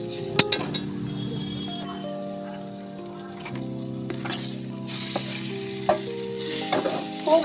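Potato paste is stirred into a frying pan, with a steady soft sizzle and scraping stir strokes under tonal background music, and a few sharp clinks of the utensil against the pan.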